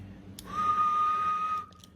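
A person whistles a steady held tone into a Kenwood TS-790S VHF/UHF/SHF radio transceiver on USB mode, heard as a single sustained whistle of about a second, loud and clear, with no talking.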